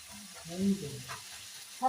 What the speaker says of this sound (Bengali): এদিকে কাঁচকলা ভাজা করেছি